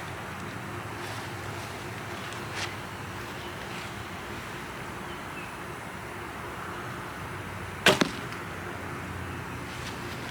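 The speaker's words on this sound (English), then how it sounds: "That first arrow was screaming out of this bow." An arrow loosed from a lightweight 40-pound Supercurve recurve bow gives one sharp, loud snap near the end, over steady outdoor wind noise.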